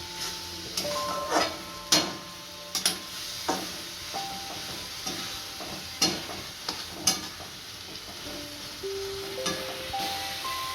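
Bottle gourd ladoo mixture is stirred in a pan with grated khoa and cardamom powder, giving a soft steady scraping and shuffling and several sharper clinks of the spoon against the pan, with no talking.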